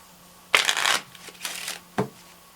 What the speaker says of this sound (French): Je vais mélanger pour la perdre dans le jeu.